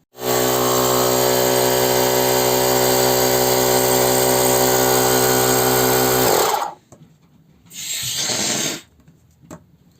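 A steady, loud mechanical drone of a 70mai Air Compressor Lite portable car air compressor with a diaphragm motor, then cutting off abruptly, followed by a short burst of hiss and quiet.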